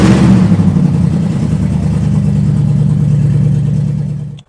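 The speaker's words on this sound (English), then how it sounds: "So we've only got one exhaust on, so it's going to be pretty loud." Mercedes W204 C63 V8 running with only one exhaust fitted, a loud, close, deep rumble that starts at a revving burst, settles into a steady throbbing idle and then cuts off abruptly.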